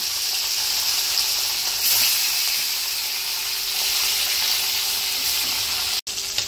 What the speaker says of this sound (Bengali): বাদ বাকি মাছগুলো সেরকম করে ভেজে নেব।